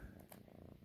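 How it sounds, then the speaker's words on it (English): A cat purring very close and quiet, a steady low rhythmic rumble of rapid pulses throughout, with no voices over it. "Can you hear her purring?"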